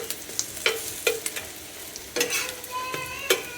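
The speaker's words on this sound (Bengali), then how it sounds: "এখন এপাশ ওপাশ করে ভেজে নিলেই হয়ে যাবে দারুণ একটা নাস্তা" A homemade snack frying in a pan and being turned from side to side, with soft crackling sizzle and several sharp clicks of a utensil against the pan, close and steady without talk.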